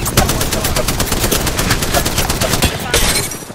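Rapid automatic gunfire in a shooter video game, a dense run of loud close shots that continues almost without a break and fades at the end.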